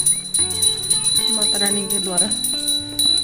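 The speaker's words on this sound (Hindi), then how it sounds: "बहुत अच्छे से बजाती है घंटी वैसे, मंदिर के है ना" A small brass temple bell rung repeatedly during morning puja at a home shrine, bright metallic rings close and loud, under a woman chanting a devotional line.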